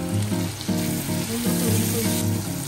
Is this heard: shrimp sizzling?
yes